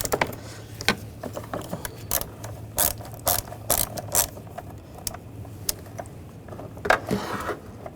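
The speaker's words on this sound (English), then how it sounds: "You're going to use a 13mm socket." A ratchet fitted with a 13mm socket clicks in quick, uneven bursts, close and fairly quiet, as the battery hold-down bolt on a Volkswagen Tiguan is loosened.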